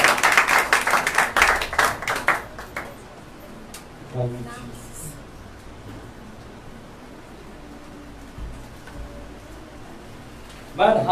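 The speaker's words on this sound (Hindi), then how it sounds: "आइए जोरदार तालियां परमेश्वर का दास" Applause in a Sunday church service welcoming the preacher, a short loud burst of clapping at the start that fades within a few seconds into quiet room tone, with another brief burst near the end.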